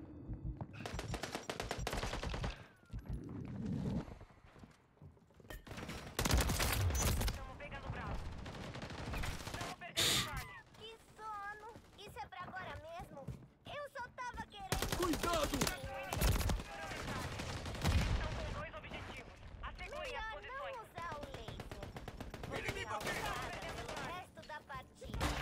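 Bursts of automatic gunfire and single shots ring out in a Call of Duty Modern Warfare III match, coming in loud clusters separated by brief lulls, while players talk over the action.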